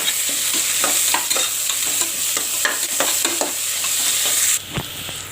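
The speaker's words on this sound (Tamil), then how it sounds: "ஆனியன் நல்லா வதங்கட்டும்" Chopped onions sauté in hot oil in a pan for egg biryani, giving a steady close sizzle with repeated scraping strokes from stirring, then a soft knock near the end.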